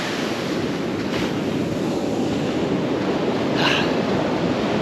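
Surf on a wilderness beach in Croajingolong National Park, a steady broad wash of breaking waves with wind buffeting the microphone throughout and no talk.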